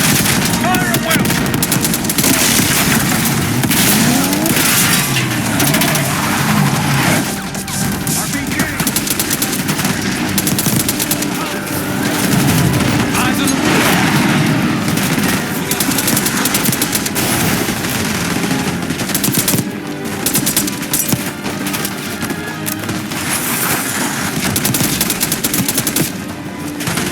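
Continuous heavy gunfire in Call of Duty: Black Ops 6, dense machine-gun bursts and shots layered with explosions in a loud, unbroken battle, with occasional shouted voices.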